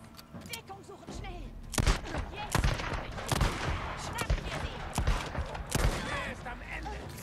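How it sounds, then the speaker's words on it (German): Gunfire in the video game Days Gone, several loud sharp shots spaced irregularly among thumps and game noise, with someone talking in German throughout. "Vier Schüsse."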